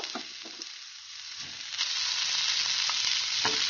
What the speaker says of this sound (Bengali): ফুলকপিটাকে হালকা নেড়ে নেবো ফুলকপিটাকে হালকা নেড়ে নিয়েছি